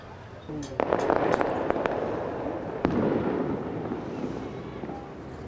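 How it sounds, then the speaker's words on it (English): Warning fireworks set off by lookouts in a Rio de Janeiro favela: a rapid string of sharp cracking bangs early on, then a single louder pop, echoing over a broad noisy outdoor wash, with a narrator's voice over it. "Within minutes of our arrival, the warning fireworks are set off."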